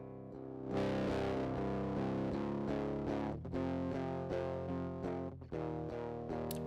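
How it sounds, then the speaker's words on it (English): Clean electric guitar with no distortion, played through an audio plugin, playing chords with a steady rhythm, bright and sustained, with a slight effects sheen; no voices. "Let's grab one of the guitars without any distortion on it."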